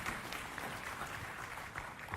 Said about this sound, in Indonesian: Ya, boleh kalau mau tepuk tangan.